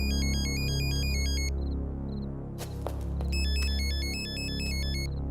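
A phone rings with an incoming call during a tense police confrontation in a Hindi-dubbed action film. The electronic ringtone is loud and repeats in bursts, layered over a low dramatic music bed, with a brief sharp hit partway through.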